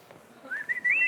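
A person whistles a single short tune that rises in pitch and grows louder toward the end, close and clear over a quiet background with no talking.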